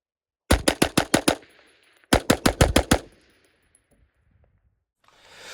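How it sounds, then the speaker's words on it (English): Two rapid bursts of rifle fire from an AR-15 with a 20-inch barrel at an outdoor range, each about seven loud, evenly spaced shots, separated by a short pause and followed by quiet. "AR-15's, so easy peasy keeping those rounds on target with a 20-inch barrel."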